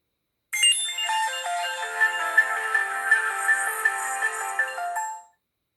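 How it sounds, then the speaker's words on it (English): A smartphone plays its startup sound loudly, a bright synthesized jingle of stepped electronic tones lasting several seconds before cutting off abruptly, alone with no voices. "this possibly has the loudest and the most annoying startup sound I've ever heard on a phone"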